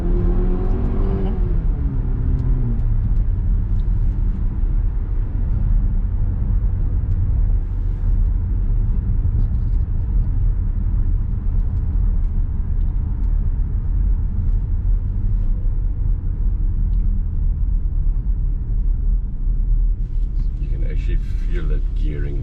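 From inside a 2022 Haval H6 GT with a 2.0L engine, a continuous low engine rumble builds and then eases as the gearbox shifts down. Voices murmur over the drone.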